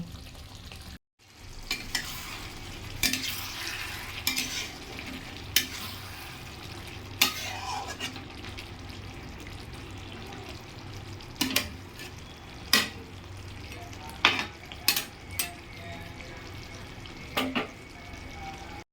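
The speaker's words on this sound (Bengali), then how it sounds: "এটাকে আমি চাপা দিয়ে দিয়ে কষে কষে করবো" Chicken pieces fry in a covered pan for chicken kosha with a low, steady sizzle. Occasional lid knocks and spatula scrapes stand out close by, loudest near the end, and there is no speech.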